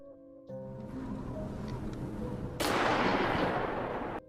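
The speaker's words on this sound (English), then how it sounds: "she hears gunshots," A burst of gunfire crackles over a dense, rumbling background, loud and sustained for a couple of seconds before cutting off abruptly.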